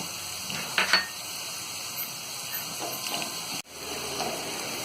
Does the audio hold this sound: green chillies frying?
yes